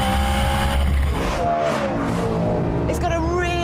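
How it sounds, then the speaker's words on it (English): A BMW M3 GTS on a race track, its raucous exhaust note rising and falling with engine revs and a brief tyre squeal, loud and close, with someone talking over it. "It's got a really raucous sound to it that makes you almost feel as if you're in a real thoroughbred racing car"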